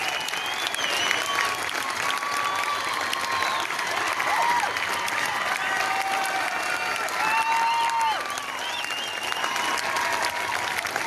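A big crowd at a live concert in the Sandy Amphitheater applauds steadily and loudly throughout, with dense, continuous clapping and some cheering mixed in after a drum solo.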